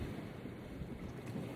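Steady ocean surf washes onto a sunny Bermuda beach, a continuous wash of broadband roar with wind noise buffeting the microphone, fairly constant in level and heard alone without voices.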